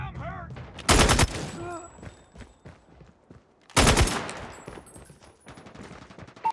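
A hostile sentry gun in Call of Duty Mobile fires two loud, rapid automatic bursts a few seconds apart, with quieter game effects and scattered shots between them.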